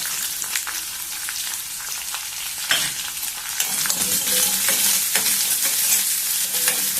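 Sliced onion and green chillies frying and being stirred in a pan, with steady sizzling and occasional scraping stirs throughout, close and moderately loud with no talking.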